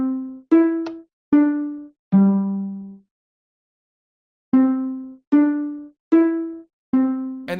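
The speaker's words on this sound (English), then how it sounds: "We're going to listen to the low sounding one first." Minecraft note blocks play the low-pitched Five Nights at Freddy's 6 AM chime: four clear, bell-like plucked notes, a short silence, then four more, each ringing briefly and fading, alone and fairly loud.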